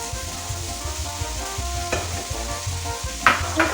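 Capsicum and spring onions stirred in a kadai over high flame for street-style cooking, a steady loud sizzle with repeated scraping spatula strokes and a few sharper metallic clinks near the end, no talk.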